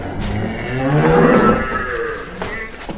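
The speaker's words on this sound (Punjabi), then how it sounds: "ਬੱਚੇ ਅੱਜ ਸਾਰੇ ਰੰਭੀ ਜਾਂਦੇ ਆ" Calves and cattle moo loudly and close at a farm where buffaloes and cows are for sale, one drawn-out lowing call swelling in the middle, with fainter moos around it.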